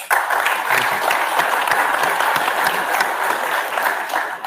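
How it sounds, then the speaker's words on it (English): An audience at a business forum applauds: dense, sustained clapping from a crowd, loud and steady throughout the few seconds, with no speech over it. "I think that calls for an applause"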